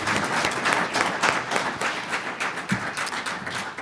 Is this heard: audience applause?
yes